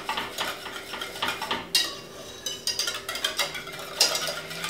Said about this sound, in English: add in some of our cinnamon and a little bit of our fleur de sel, and then whisk the spices in